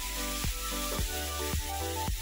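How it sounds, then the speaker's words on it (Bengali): Chilli and turmeric powder fry in hot oil for a village-style mutton curry, a close steady sizzle with rhythmic stirring scrapes about every half second. "লঙ্কার গুঁড়ো, হলুদ গুঁড়ো, লঙ্কা গুঁড়ো মশলার সঙ্গে একটু ভেজে নেব আগে"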